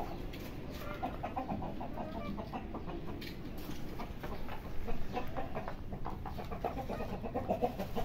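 Backyard hens, including fancy Aseel chickens, cluck and chatter continuously at moderate loudness alongside other farm birds, a busy layered flock sound with no talking.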